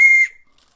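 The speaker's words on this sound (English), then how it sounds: "Another whistle." A small whistle on a key ring gives one short, loud, shrill blast lasting about a quarter second, cutting off abruptly into near silence.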